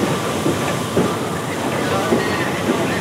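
A steam locomotive on the Train des Viaducs line rumbles slowly along the track to couple onto a rake of carriages, a dense, steady mechanical roar with faint periodic knocks and clanks nearby.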